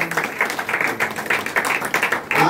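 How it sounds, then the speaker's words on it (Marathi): Audience clapping at a felicitation ceremony in a temple: a dense, uneven patter of many hands, moderately loud and steady throughout, with some faint voices mixed in. "सर्वांनी टाळ्या वाजवा."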